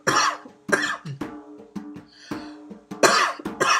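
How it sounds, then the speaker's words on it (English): Repeated harsh human coughing, several loud close bursts with throat-clearing between them, filling the moment with no speech. "And often coughing is letting go"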